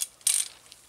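A ratchet clicks briefly while the bottom of a stabilizer link is torqued on a 2005 Ford F250, heard as one short, close burst of rapid metallic clicks.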